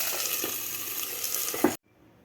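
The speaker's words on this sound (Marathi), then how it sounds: "आता खालची सुद्धा बाजू आपल्याला व्यवस्थित फ्राय करून घ्यायची आहे।" Tomatoes and raw mango frying with garlic and green chillies in a pan, a steady close, loud sizzle with a few stirring knocks, cutting off abruptly near the end.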